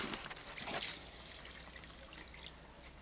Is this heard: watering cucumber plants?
yes